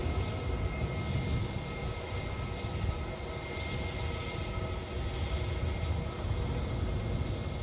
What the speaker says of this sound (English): So we'll pick the Dreamliner up in this shot actually.